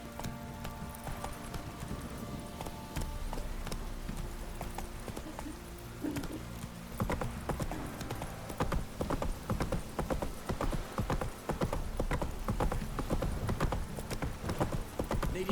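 Horse hooves clip-clop steadily in The Witcher 3 on PS5, a continuous rhythmic trot that grows busier and louder toward the end, with no talk over it.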